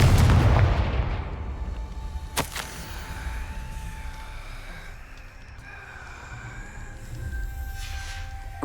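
A Confringo blasting spell explodes in Hogwarts Legacy, a loud booming blast up front that rumbles and decays, followed by a sharp crack around two seconds and a lingering ringing magical tone as the sound fades.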